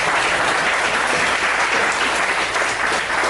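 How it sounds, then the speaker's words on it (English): Loud, steady applause from a standing crowd at a startup pitch event, filling the short stretch without pause. "So can you guys stand up and give a round of applause to Sean?"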